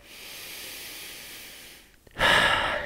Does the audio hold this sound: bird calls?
no